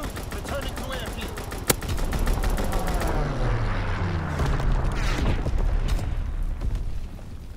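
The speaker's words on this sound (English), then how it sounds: "Fighter pilot inbound. Strafing the tower." Call of Duty WWII fighter plane strafing a tower, with a dense roar of sustained gunfire and explosions that runs throughout at steady, loud volume.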